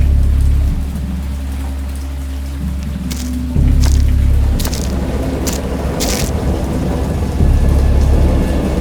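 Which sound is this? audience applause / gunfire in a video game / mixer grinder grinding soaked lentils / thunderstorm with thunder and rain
thunderstorm with thunder and rain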